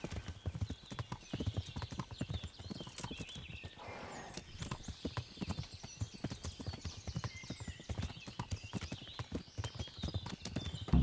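Galloping horse hooves in the medieval video game Kingdom Come: Deliverance, a fast steady stream of close hoof beats with a brief whinny-like sound partway through.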